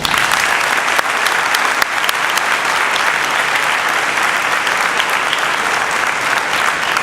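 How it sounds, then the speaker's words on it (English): Loud, sustained applause from a large crowd at a high school football jersey presentation ceremony, a dense unbroken wash of clapping that holds steady for several seconds. "Please give them a round of applause."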